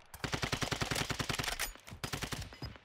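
Rapid automatic gunfire from Call of Duty Warzone 2, likely the TAQ 56 rifle, rattles out in two loud sustained bursts split by a brief pause.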